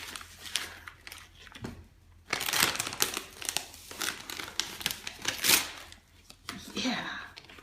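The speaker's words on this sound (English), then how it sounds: "Let's take off all the wrapping paper." Wrapping paper crinkles and tears as a child unwraps a Hanukkah present, a menorah. Close, bursty rustling and ripping runs throughout under excited voices.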